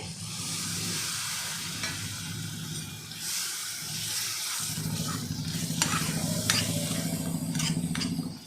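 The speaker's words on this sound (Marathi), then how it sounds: "आता याच्यामध्ये जो मी मिक्सरच्या भांड्यातला पाणी काढलं होतं ते टाकत आहे" Water from the mixer jar hits hot egg masala gravy with a loud hiss and bubbling sizzle, followed by steady stirring and scraping in the pan, close up.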